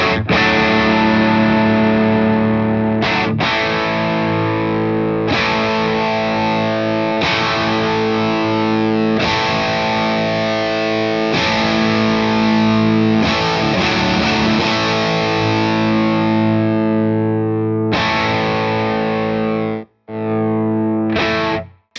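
Electric guitar played through a compressor pedal into an overdrive, loud driven chords and riffs sustaining evenly for over twenty seconds with brief gaps near the end, no talking.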